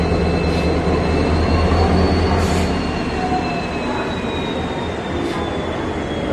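WDP4D diesel locomotive hauling a Janshatabdi express near Hubballi Junction: a loud, steady rumble with high wheel or brake squeals running throughout.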